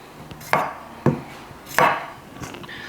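A knife chops long washed cucumbers on a board for Korean-style pickles, four sharp close strokes spaced irregularly apart, with no voices.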